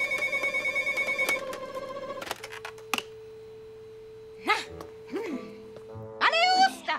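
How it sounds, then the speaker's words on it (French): A cartoon telephone rings in a rapid repeated bell trill for about two seconds, then stops; a sustained tone and scattered clicks follow, with animated voices speaking and exclaiming afterward. "Ah, je rêve encore ce téléphone!"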